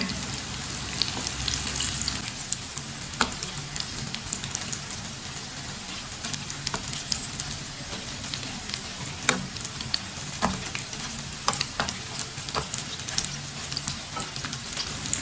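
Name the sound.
leftover rice pakoras frying in a pan over medium heat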